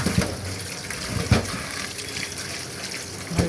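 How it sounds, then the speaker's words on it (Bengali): Tap water runs steadily into a sink while tomatoes are washed by hand, with a few brief splashes and knocks against the sink. "তো আগে আমি টমেটোগুলোকে ভালো করে ধুয়ে নিব"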